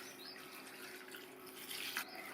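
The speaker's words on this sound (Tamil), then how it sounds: "கீரை முங்குற அளவுக்கு நல்லா தாராளமாக தண்ணி விட்டுட்டு" Water pours steadily over small spinach greens (sirukeerai) in a bowl to soak, a continuous soft splashing wash that swells slightly near the end, faint and close.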